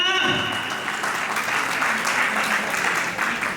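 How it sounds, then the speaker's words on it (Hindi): An audience applauds at a YouTube and Instagram award show, with steady, continuous clapping that fills the whole stretch at moderate loudness. "अब तो बजा दो एक बार तालियां"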